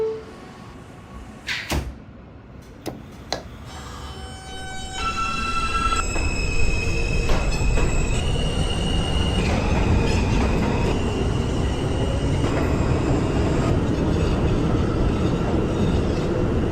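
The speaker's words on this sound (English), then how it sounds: "This is a Forest Hills 71st Avenue bound R train." An R subway train from the openbve train simulator game pulls away, with a few clunks and door sounds first, then a loud, steady rolling rumble and rising whining motor tones that climb in pitch.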